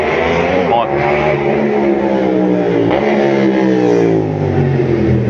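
Motorcycle engine on a city street, revving and droning loudly and close for several seconds with steady pitch changes as it passes by.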